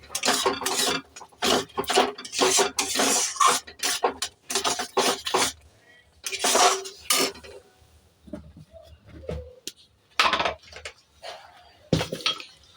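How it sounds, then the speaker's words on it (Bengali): Pea paratha filling in a pan being stirred after amchur powder goes in, giving repeated close scraping and clinking bursts of utensil against pan with brief pauses between strokes. "একটুখানি আমচুর পাউডার দিয়ে ভালো করে নেড়ে দেবো"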